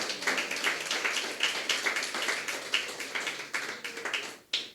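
Church congregation clapping for the Lord during a sermon, a steady stream of sharp, fairly close claps that fade briefly near the end before one last clap.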